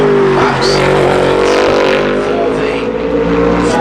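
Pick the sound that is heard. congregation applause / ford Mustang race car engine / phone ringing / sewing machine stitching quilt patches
ford Mustang race car engine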